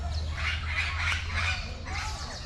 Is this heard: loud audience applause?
no